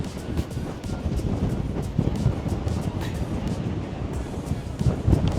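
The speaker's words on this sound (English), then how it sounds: "it is so windy." Strong outdoor wind buffets the microphone on a fishing pier at the beach in Florida, a steady loud broadband rumble with gusts that swell throughout, no speech heard.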